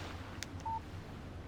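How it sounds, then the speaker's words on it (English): A short electronic text-message alert tone from a phone in the video game Alan Wake: one brief beep over low background hum, preceded by a faint click. "Text message from Barry."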